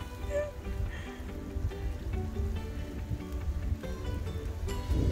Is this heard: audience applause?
no